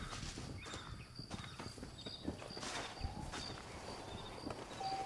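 Horse hooves clip-clopping in the Red Dead Redemption Game of the Year Edition video game, a quiet, steady walking rhythm over faint ambient rustle, with no talking.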